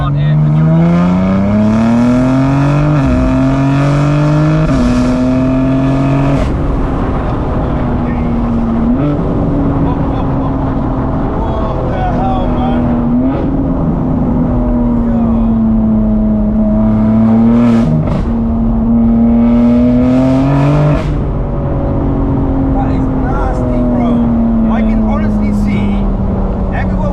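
Tuned 880bhp BMW M4 G83 accelerating hard through the gears on a street, a loud close engine roar with rising revs that drop at each quick shift, repeated several times, with a voice speaking over it.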